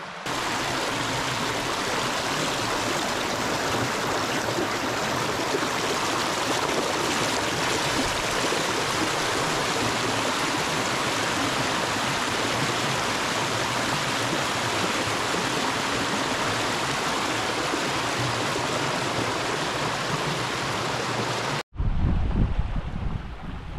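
A steady, rushing babble of a river stream in Urho Kekkonen National Park, Finland, fills the whole stretch, close and loud, then cuts abruptly near the end to a brief rumble.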